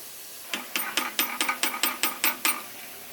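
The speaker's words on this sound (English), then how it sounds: "I'm going to use my vise to start this roll pin insertion back in." A bench vise is cranked to press a roll pin into a gravity-feed soda abrasive blast gun, giving about ten sharp, evenly spaced ratcheting clicks close by over roughly two seconds.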